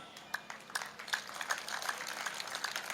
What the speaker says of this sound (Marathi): खूप हळूच टाळ्या वाजवल्या.